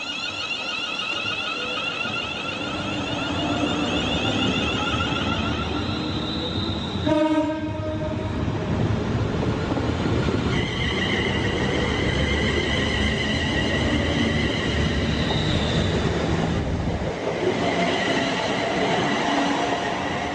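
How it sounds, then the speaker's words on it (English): A train passes close by in sunshine, with a long rumbling roar of rail cars throughout and a sharp horn blast around the middle, loud and steady with no talking. "See our train boo-booing?"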